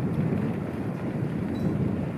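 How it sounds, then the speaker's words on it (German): Wind buffets the microphone while cycling along a canal on a warm day, a loud, continuous low rumble with no voices. "zumal ja heute auch noch ein bisschen Wind geht"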